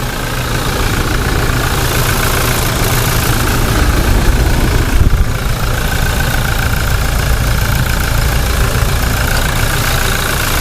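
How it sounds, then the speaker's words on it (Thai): A 2020 Toyota Hilux Revo 2.8 diesel pickup engine idles steadily, recorded up close at the engine bay: a continuous low rumble with a faint mechanical clatter throughout, no voices. "จะได้ฟังเสียงเครื่องกันแบบชัดเจนนะครับ"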